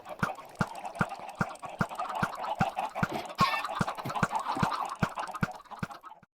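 Chickens in the game Minecraft cluck in a steady run of sharp, evenly spaced clicks and clucks, close and moderately loud throughout, with no voices.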